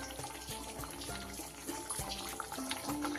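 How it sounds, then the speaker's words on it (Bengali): Katla fish malai curry gravy bubbling with fried fish pieces added, a steady watery simmering with soft burbling and liquid movement, close and continuous with no talk. "মাছগুলো দিয়ে আমি আরো 2-3 মিনিট খুব ভালো করে ফুটিয়ে নেব"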